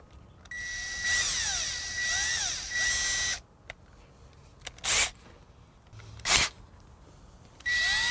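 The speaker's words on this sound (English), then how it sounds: "We'll use the drill to just twist the wire." A power drill twisting wire together during a car audio system install, with several short whirring bursts that rise and fall in pitch, then a few sharp clicks and a final burst of whirring.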